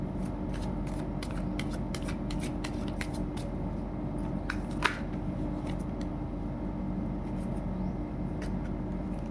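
Tarot cards shuffled and drawn during a reading, a steady papery riffle and soft slapping running throughout, with one sharper snap near the middle and a constant low hum underneath.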